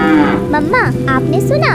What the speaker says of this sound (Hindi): बाहर से गाय की दुख भरी आवाज सुनाई देती है।